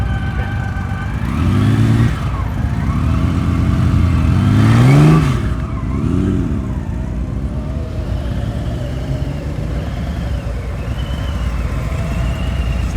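Motorcycle ridden slowly through a practice session of low-speed riding drills, its engine humming steadily up close with a few rising and falling revs, heard alone with no talking.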